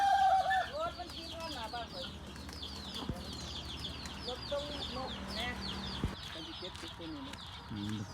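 Spotted doves coo at a cooing contest in Chanthaburi, Thailand, with repeated, rhythmic coos from several birds at moderate distance and people talking in the background.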